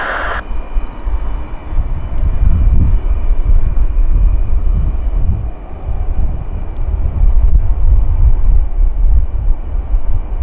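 Antonov An-124 heavy transport jet taking off from an airport runway, a loud sustained roar of its engines with rumbling low-end, steady and close throughout with no speech.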